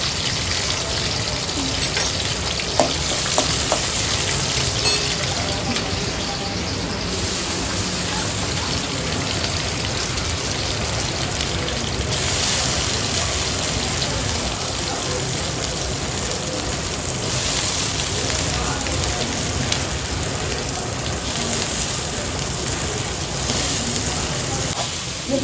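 Cinnamon and cloves sizzle in hot oil at the start of a mutton dish, a loud, steady, close hiss with light crackle running the whole time and no clear break.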